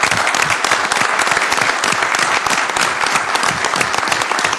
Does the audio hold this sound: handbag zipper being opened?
no